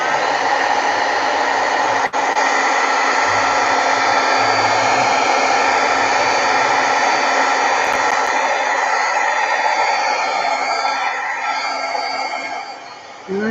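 A heat embossing tool blows hot air steadily onto a Christmas card being made, a loud continuous whirring hiss that holds for the whole stretch and dips slightly near the end.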